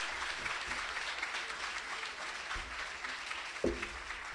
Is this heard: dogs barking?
no